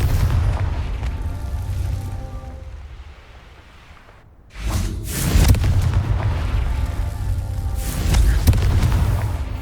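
Confringo fire spell explosions in the Hogwarts Legacy video game: heavy booming blasts with a rumbling tail, a brief lull, then a loud burst and sustained crackling detonations continuing to the end.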